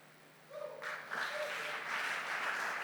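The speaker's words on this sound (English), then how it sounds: "A round of applause for him." An audience applauds a performer after a spoken word duet at Government House, clapping rising from quiet into a sustained moderate wash, with a brief voice or cheer near the start.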